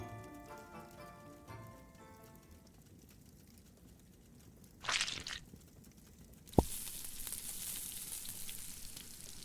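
Fish frying in a pan gives a soft, steady sizzle that swells louder partway through, joined by a faint rustle and a single sharp clink, all fairly quiet and close.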